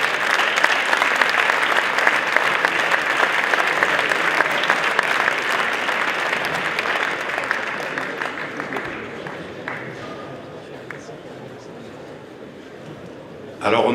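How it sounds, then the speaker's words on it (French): An awards audience applauds the Montpellier women's rugby team with loud, dense clapping that tapers off after about nine seconds into scattered claps and murmurs, then a brief burst at the end. "Donc je vous demande d'applaudir les filles du Montpellier Rugby Club"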